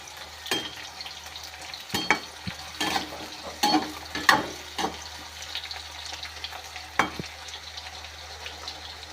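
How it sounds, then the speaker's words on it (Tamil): Eggplant fries in plenty of sesame oil for a Tamil-style kara kuzhambu, giving a steady close sizzle with irregular sharp spatters and stirring scrapes, moderately loud, no talking. "எண்ணெயிலே வேகுது பார்த்தீங்களா."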